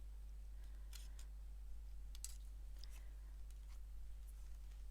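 Scissors snip through card to cut out a tag shape, a few short crisp cuts in quick bursts, faint and close against a steady low hum in a quiet room.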